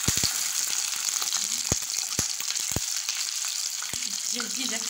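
Chicken pieces frying in oil for a vegetable tagine, with a steady loud sizzle broken by sharp crackles and pops throughout.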